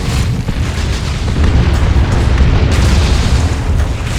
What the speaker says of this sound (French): petit largage de nucléaire.